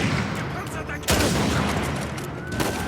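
Dense bursts of gunfire in the Uncharted 4: A Thief's End game, with a sharp loud volley near the middle and continuous shooting around it, mixed with some talk.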